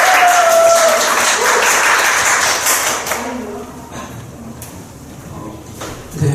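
Congregation applauding during a Sunday church service, a dense burst of clapping that fades after a few seconds into scattered taps and room noise.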